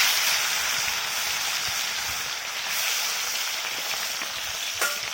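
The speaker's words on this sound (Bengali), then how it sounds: "তেল গরম হয়ে গিয়েছে, এবার মাছগুলোকে ছেড়ে দেব।" Lata fish frying in hot mustard oil in a home kitchen makes a dense, steady hiss of sizzling throughout, fairly close and even, with a small crackle near the end.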